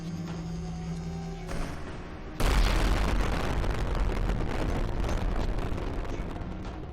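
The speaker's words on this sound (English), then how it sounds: "At least the explosions keep me coming back." Video game explosions: a sudden loud boom breaks in partway through, followed by a sustained roaring, rumbling blast texture over low game background tones.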